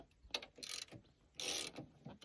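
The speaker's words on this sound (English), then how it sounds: "I'm gonna loosen the brake release screws." Brake release screws being loosened on a 310 SK brake, a few close mechanical clicks and ratcheting scrapes in short bursts with quiet gaps between.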